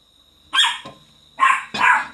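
A dog barks three times nearby, sharp and loud, one bark then a short pause before two more in quick succession.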